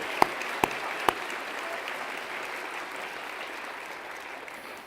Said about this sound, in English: also need a round of applause